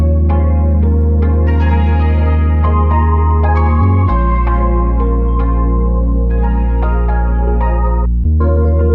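Loud lo-fi electronic music plays continuously, with a heavy droning bass and a stream of bright, plucky synth notes.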